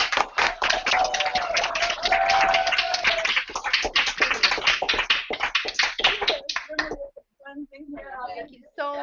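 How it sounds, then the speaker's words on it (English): A brunch fundraiser crowd gives a round of applause, steady close clapping for several seconds that stops, followed by a few scattered voices. "And a round of applause."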